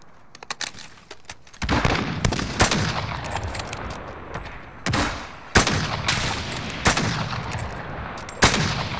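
Rapid bursts of rifle fire in a shooter video game, loud and close, with dense automatic volleys separated by brief pauses, sharp single cracks scattered throughout, and no talking.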